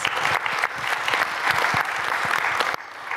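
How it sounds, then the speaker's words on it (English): Steady applause from a conference audience after a panel of speakers on geospatial data, a dense wash of many hands clapping at even volume for about three seconds before dropping away at the end. "A big round of applause for our speakers."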